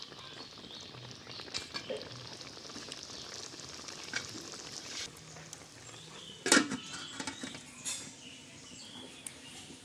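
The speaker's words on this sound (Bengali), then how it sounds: "ঝিঙ্গে নারকেল ফুটে আসছে" Ridge gourd and coconut curry simmers in a pan, giving a soft, continuous sizzle and bubbling patter with a few brief clicks and one louder clatter near the end, fairly quiet and without talking.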